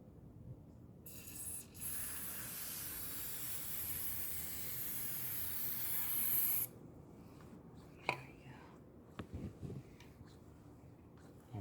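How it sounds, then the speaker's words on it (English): Penetrating oil hisses from a spray can onto the chain links of a Suzuki GZ250 motorcycle in one long spray of about five seconds, followed by a few faint clicks and handling sounds. "penetrating oil, so it really gets into those links"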